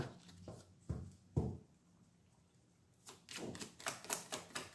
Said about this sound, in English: Too many cards here, so I'm going to put them back.